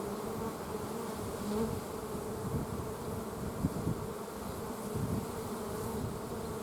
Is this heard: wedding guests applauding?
no